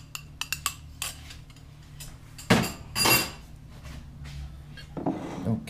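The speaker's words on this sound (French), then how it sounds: "bien mélanger tout ça. Avec une fourchette" Fork clinking and scraping against a small bowl while raw chocolate mixture with cacao butter is stirred, scattered light taps and a couple of louder knocks, close with no voices.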